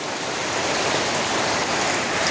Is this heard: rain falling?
yes